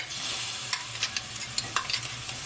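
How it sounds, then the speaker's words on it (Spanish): Fish is stirred into a seafood stew simmering in a pot, with a soft steady bubbling and occasional clinks and scrapes, quiet and close. "Y ahí vamos revolviendo lentamente, le echamos el pescadito."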